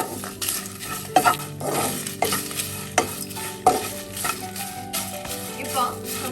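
Ginger and green chillies roast in a pan for curry leaf chutney powder, a continuous sizzle broken by repeated scraping strokes of a spatula stirring, close and fairly loud.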